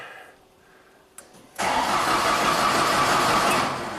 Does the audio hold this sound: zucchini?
no